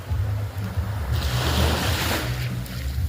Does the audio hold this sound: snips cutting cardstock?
no